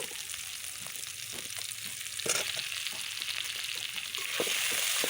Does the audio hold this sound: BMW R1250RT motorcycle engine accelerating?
no